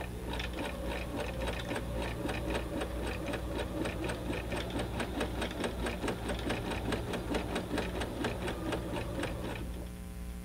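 A sewing machine stitches back and forth over worn denim to darn jeans, a fast steady close rhythmic clatter throughout that eases off at the very end.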